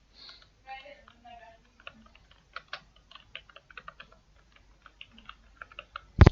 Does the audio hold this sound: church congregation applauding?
no